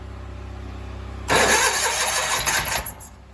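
A Sears Suburban garden tractor engine cranks after a low steady hum, catches abruptly and runs loud and rough for about a second and a half before dropping back and sputtering.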